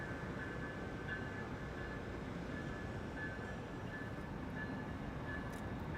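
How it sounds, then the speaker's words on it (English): A Brightline train leaves a station in Miami, a constant broadband rumble and roar with a faint steady whine riding over it, sustained throughout at a moderate distance without speech. "That's Brightline leaving the station."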